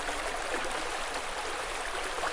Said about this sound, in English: I have a beautiful creek beneath my feet and it's very, very cold.